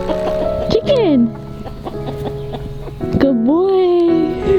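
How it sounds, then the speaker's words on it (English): Backyard chickens cluck and squawk in a close, busy run of calls, with a voice calling out among them. "Chicken!"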